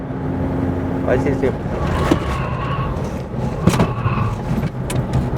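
A car cruises at about 140 km/h in fifth gear, fitted with new Runstop brake discs; a steady, loud roar of road and wind noise fills the cabin throughout, with a few brief bumps and swells.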